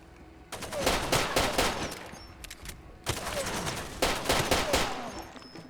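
Rapid bursts of pistol gunfire in the shooter game Far Cry 2, two dense clusters of sharp, loud shots fired in quick succession with a short pause between them.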